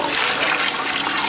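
River water pours steadily into a fish container, a continuous splashing, gurgling rush that stays close and even for its whole short length.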